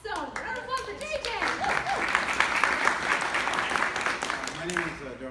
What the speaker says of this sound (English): Round of applause for JJ.